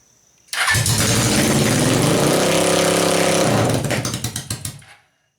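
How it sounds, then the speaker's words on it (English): A small Suzuki engine starts abruptly and revs high and fast with the choke on, holding a raised idle before sputtering and cutting off. "it's revving up a little bit too much with the choke on."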